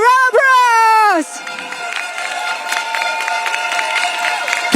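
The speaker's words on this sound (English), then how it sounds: "Give it a round of applause." A crowd applauds at a PAP general election rally at Yishun Stadium for Nee Soon GRC in Singapore. A brief tonal burst comes first, then a steady wash of clapping and crowd noise fills the rest.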